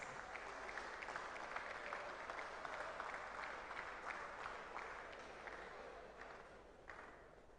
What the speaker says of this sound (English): A round of applause for the rep for Yasantua girls.